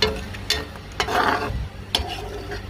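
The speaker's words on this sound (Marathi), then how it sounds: "भुर्जीसाठी मिक्स करायचे." Eggs for egg bhurji stirred in a pan over medium heat, a spatula scraping and clinking against the pan in a few sharp strokes over a soft, steady sizzle.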